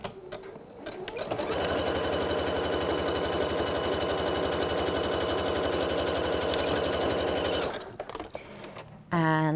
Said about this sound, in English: most domestic machines will have at least a normal zigzag stitch, which I'll demonstrate for you here